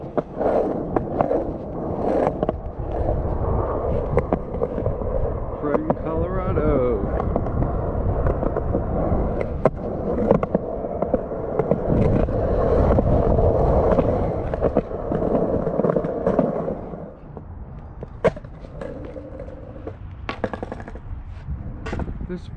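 Skateboarding at Pioneer Gun Skate Park: a steady rolling rumble of wheels over concrete, broken by scattered sharp clacks and board slaps. It sounds close, with a voice talking over parts of it.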